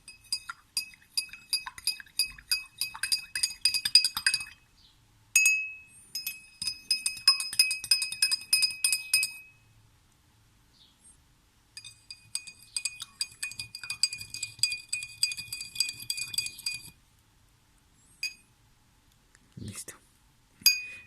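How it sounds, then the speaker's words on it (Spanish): Spoons stirring sugar and other mixtures in three glasses, giving rapid bright clinking against the glass in several long bursts separated by pauses, close and fairly loud. "Bueno, ahora los voy a revolver los 3."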